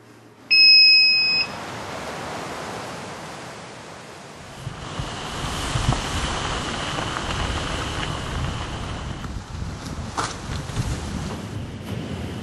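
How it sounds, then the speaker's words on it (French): A short, shrill electronic alarm beep sounds at the start, followed by a steady rushing wash like wind or surf that continues throughout, by the sea at St-Vaast-la-Hougue. "Donc fin de tournée, je mets mes alarmes"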